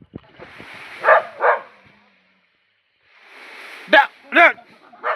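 A pet dog barks at a wild tusker elephant raiding a jackfruit tree near homes, sharp barks in two pairs separated by a pause, moderately close, with faint background voices.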